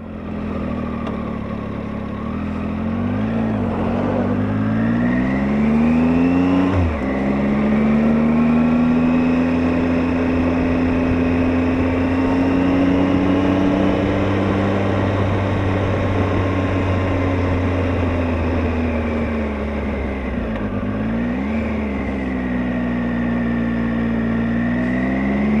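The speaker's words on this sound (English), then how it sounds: "Vehicle coming, we've got a pass in place." A Triumph Tiger 800 XRT motorcycle engine hums steadily on a single-track road while an oncoming vehicle approaches and passes at a passing place, the engine tone rising and falling with gear changes and slowing.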